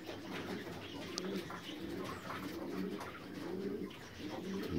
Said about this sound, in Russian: Белястая голубочка.